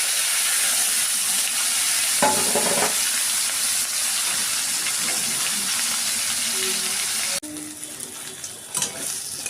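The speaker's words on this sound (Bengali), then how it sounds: "এবার মাছগুলোকে একটু লাল লাল করে ভেজে নেব।" Fish fry in hot oil in a wok with a loud, steady, close sizzle and hiss that continues for most of the clip. Near the end it drops suddenly to a softer crackle with a few clatters.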